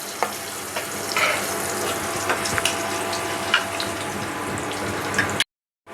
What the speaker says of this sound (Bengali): আমি আলুটা হালকা লাল করে ভেজে নেব